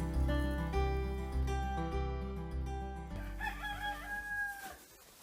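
A rooster crows among chickens kept in a Tamar Valley garden on a sunny morning, one drawn-out call rising and then falling away, set against a steady, tonal background with no talking.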